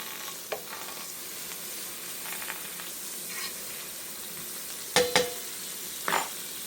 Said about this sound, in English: Here I have some butter. I am going to add some to my electric skillet,